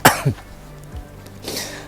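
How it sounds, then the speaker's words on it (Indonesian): A single close cough bursts out with a short throaty follow-up, a pause, then a breathy exhale, from a person outdoors at the Sejuta Pohon Kelapa coconut grove in Cibuntu, Kuningan. "Aduh, lagi batuk ya."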